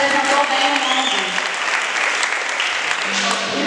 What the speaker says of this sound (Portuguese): mas uma salva de palmas para ele também